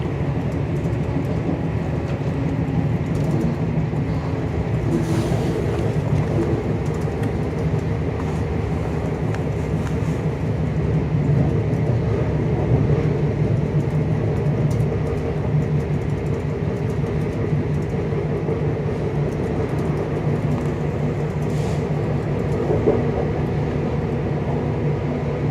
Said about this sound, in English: ARRIVA Trains Wales Service to Cardiff Central. We will shortly be arriving at Cardiff Central